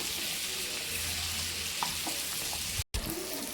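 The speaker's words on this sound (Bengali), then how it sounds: "সবজিগুলো হালকা করে ভেজে নিতে হবে" Vegetables fry in a pan with a continuous, even sizzle and faint crackles, interrupted by a brief moment of silence near the end.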